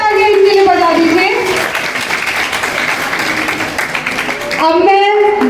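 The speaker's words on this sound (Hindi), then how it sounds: "एक बार फिर से तालियां इसके लिए बजा दीजिए।" A crowd applauds steadily for several seconds at a Ghaziabad event marking Savitribai Phule, the clapping swelling in the middle while a voice speaks Hindi over it at the start and end.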